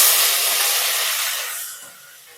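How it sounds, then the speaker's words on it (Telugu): Onions and curry leaves hit hot oil with dried red chillies in a Telugu tempering for tamarind-leaf dal, giving a loud, steady broadband sizzle that gradually fades over a couple of seconds. "నెక్స్ట్ ఆనియన్స్ కరివేపాకు వేసుకోవాలి"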